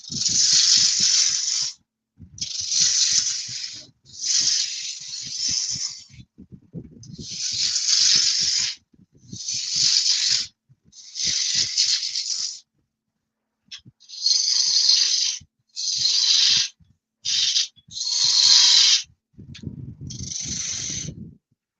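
A wood lathe turning timber with a spindle roughing gouge makes loud bursts of hissing, scraping cuts in repeated passes, each lasting a second or two with short pauses between.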